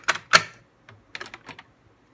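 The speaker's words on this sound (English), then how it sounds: "a lot of lights shows up and there's a strange noise, as if something in the cassette desk were stuck." A Tascam 464 cassette deck with a faulty loading mechanism clicks and clatters after play is pressed, giving a few quick, faint mechanical ticks and knocks in an uneven burst.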